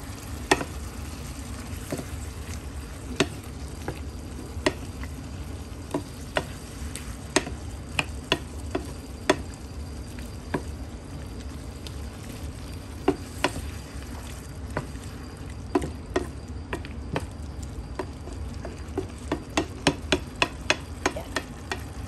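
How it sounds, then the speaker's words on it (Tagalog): Igado, a pork liver stew, simmers in a pan while being stirred, giving a steady sizzle and bubble broken by frequent sharp clicks and taps of the utensil against the pan. "Yan, haluin lang natin."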